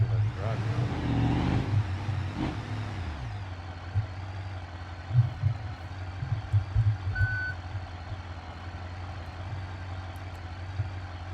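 A car engine in the BeamNG driving game, a steady low drone that swells briefly early on, with repeated soft bumps and a thin electronic tone, loud and continuous throughout with no talk.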